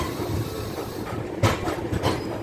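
The Chhapra Express stands at or rolls through Bhusawal railway station, with a steady rumble of railway cars and a few louder clanks and wheel knocks. There is no talking.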